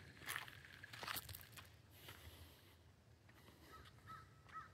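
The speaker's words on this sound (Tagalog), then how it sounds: "Uwak." A crow caws twice in quick succession outdoors in a park, faint and somewhat distant, followed by quieter rustling and softer bird calls.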